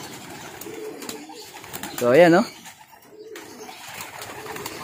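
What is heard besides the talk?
pigeons cooing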